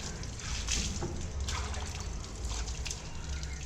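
Water is poured carefully over a Triumph sports bike's engine bay during cleaning, trickling and splashing in uneven bursts close by, with no talk.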